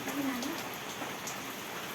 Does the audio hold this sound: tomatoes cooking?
no